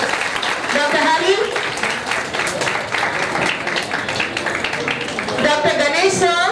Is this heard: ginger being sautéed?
no